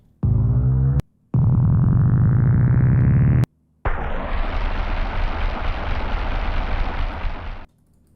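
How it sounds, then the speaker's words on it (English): Engine sound effects from a game sound library: two rising revs broken by short gaps, then a loud, rough, sustained roar that holds for several seconds before cutting off. "We have engines."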